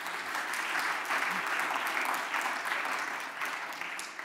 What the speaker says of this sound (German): Applaus erstmal proaktiv.